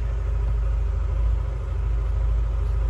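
Engine running steadily on a dynamometer, a low, constant rumble with a smooth mid-range hum and no clear rise in pitch over a few seconds.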